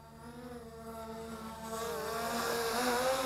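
A ZLRC Beast SG906 folding brushless GPS drone flies at a distance, its motors giving a steady whining buzz that swells slightly louder and rougher partway through as it manoeuvres, with no voices.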